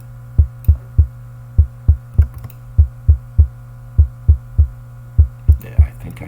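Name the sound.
synthesized kick drum with a click in the attack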